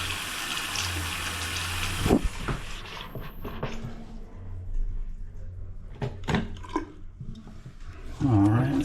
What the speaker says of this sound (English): Let's get the water on.